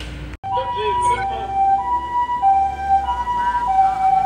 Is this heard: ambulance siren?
yes